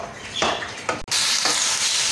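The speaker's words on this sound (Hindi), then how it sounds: "अब देखें मैंने इसके अंदर चिकन डाल दिया, इसको मैं अच्छी तरीके से 2 मिनट तक हिलाऊंगी" Chicken frying in a karahi while being stirred, loud bursts of sizzle rising and falling with each stroke, a sharp clank near the middle, then a dense steady hiss, close up and without talk.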